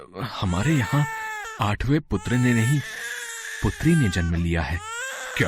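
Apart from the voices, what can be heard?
baby crying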